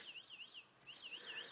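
A thin, high-pitched electronic beep with a warbling tone sounds twice in quick succession, separated by a short gap, fairly faint. A piezo speaker on a Raspberry Pi Pico microwave oven monitor.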